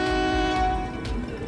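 A long train rolls past along a rail line near a highway, its horn sounding as a steady sustained blast over the rumble of the cars, loud and close, with no talk.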